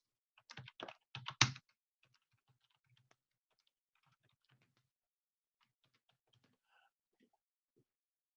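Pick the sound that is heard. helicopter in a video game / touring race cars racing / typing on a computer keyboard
typing on a computer keyboard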